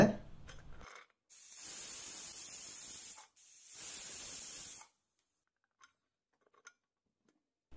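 A pressure cooker releases a steady hissing rush of steam in two long bursts with a brief break between, then fades to near silence with a few faint ticks.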